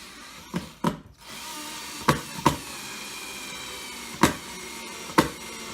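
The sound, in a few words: drilling into wood to fit a tacklebox retainer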